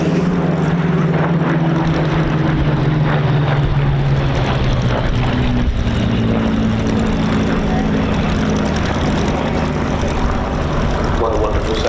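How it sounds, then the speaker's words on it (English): Three Rolls-Royce Merlin-engined Spitfires fly past in close formation at an airshow, their engines a loud, sustained droning roar with shifting pitch as they pass, voices talking beneath it. "3 Rolls-Royce Merlins, close formation. From 3 very different Spitfires."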